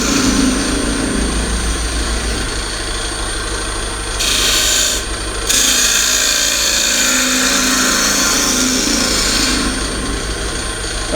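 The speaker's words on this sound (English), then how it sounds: "I was using a little 1/4 inch bowl gouge for this." A wood lathe turns a box blank while a 1/4 inch bowl gouge cuts it, making a loud continuous scraping rasp that holds steady throughout with only a brief dip midway, with no talk.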